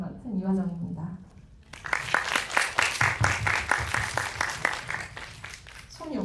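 At a post-screening talk for the film 'Seagull', someone speaks briefly before an audience breaks into lively, sharp clapping that lasts several seconds and then fades as her voice returns.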